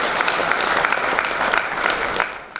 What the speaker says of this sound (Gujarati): જીતુભાઈના શબ્દોથી તાળીઓના ગડગડાટ